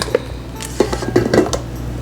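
Spatula scraping and knocking in a bowl of Cinnabon muffin kit batter, a few sharp clinks and soft scrapes spread over about two seconds, close and fairly quiet.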